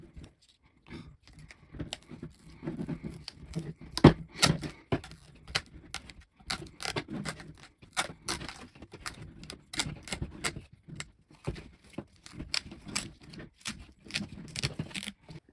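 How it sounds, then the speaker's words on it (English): An old grip being peeled off a softball bat, giving irregular crackling and sticky tearing sounds in quick uneven bursts, close by and fairly quiet, with brief pauses between pulls. "Let's go ahead and peel off this old grip."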